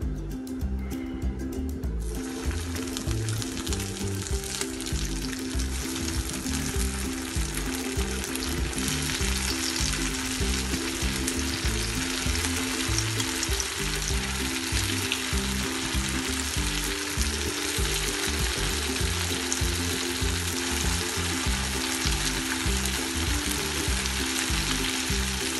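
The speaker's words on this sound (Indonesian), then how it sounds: "sekarang kita goreng tahunya." Loud, continuous sizzling and crackling of tofu frying in hot oil, close and steady throughout with occasional spattering pops.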